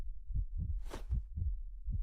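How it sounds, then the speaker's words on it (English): Heartbeat sound effect in the video game Snowbreak, with a soft, low thumping pulse that repeats at a steady rhythm in an otherwise quiet scene. "Oh, I hear a heartbeat."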